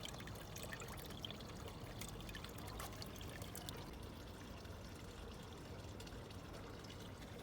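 Water pours and trickles steadily into a homemade garden fish pond filter, a continuous faint splashing wash with no talking.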